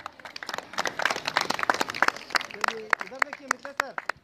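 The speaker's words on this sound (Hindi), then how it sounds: "जोरदार तालियां एक बार" At a school farewell program, an audience claps in scattered, uneven bursts, fairly faint, while a voice keeps speaking over the clapping.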